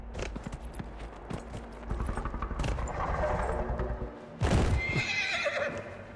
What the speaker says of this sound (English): Riding a horse on in this game always feels terrible.